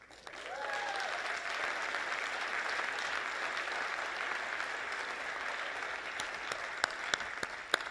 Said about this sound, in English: We just have a round of applause for how phenomenal this is.